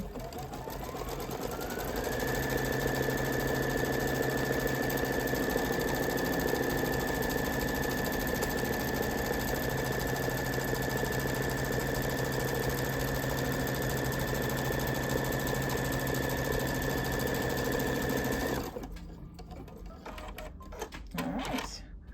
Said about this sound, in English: It is going to stitch down the placement line for the batting.